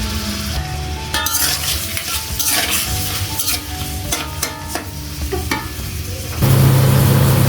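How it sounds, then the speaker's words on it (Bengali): Chopped onion, ginger and garlic frying in oil in a pan, a steady close sizzle with stirring scrapes and light utensil clinks, swelling into a louder, denser hiss near the end. "সব পেঁয়াজ কুচি, আদা, রসুন কুচি সব একসাথে দিয়ে বাদামি কালার করে নেব।"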